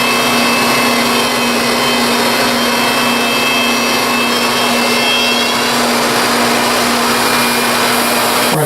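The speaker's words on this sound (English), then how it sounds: "when I run it through the planer, I hope, because of my carbide tipped cutter head, I won't get too much chip out" A thickness planer with a carbide-tipped cutter head feeds a board through, making a loud continuous roaring whine with a steady hum. It holds at constant level for the whole stretch before cutting off abruptly at the end.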